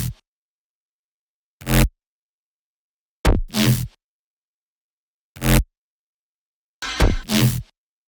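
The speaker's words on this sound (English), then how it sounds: "Drop synth shots all together sound like this." Bass house drop synth shots, STMPD style, fire as five loud, punchy stabs separated by silence, several landing as quick double or triple hits, with a brief reverb tail on each.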